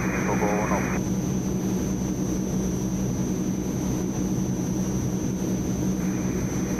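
A C-160 Transall taking off in the MSFS2020 flight simulator, a constant loud turboprop engine drone, with radio-style voices heard over it at the start and the end.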